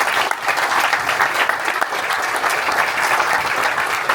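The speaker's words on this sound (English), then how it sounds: "let's just get another big round of applause" Steady, dense audience applause fills a room at a book launch, continuous and fairly loud throughout without letting up.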